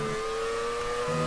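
A historic Formula 1 race car engine holds a steady high-pitched whine at fairly constant revs through a corner, loud and close for a brief moment.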